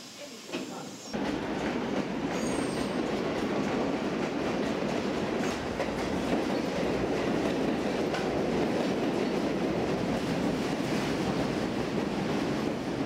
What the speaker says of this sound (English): Train to Newlands Avenue, approaching the station.